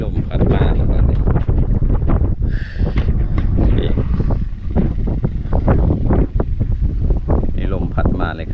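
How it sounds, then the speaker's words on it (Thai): Outdoor wind gusting steadily into the microphone on an open, sunny day, with near, continuous talking over the rushing buffeting. "มีลมพัดมาแล้วตอนนี้"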